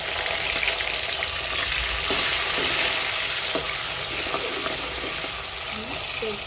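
Potatoes and tomatoes added to reddened onions in a pan for khichadi, frying with a steady, loud sizzle throughout, with faint occasional stirring clicks.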